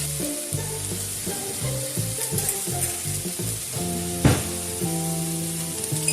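Cooked chickpeas tipped into a pan of sizzling herbs and aromatics, a steady frying hiss with one sharp clatter and crackle, heard under sustained background music with no talk.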